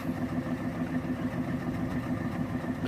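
A car engine idles steadily after a Bar's head gasket stop leak treatment, still puffing some white exhaust smoke; a constant, close mid-low rumble with a firm periodic pulse and no talking.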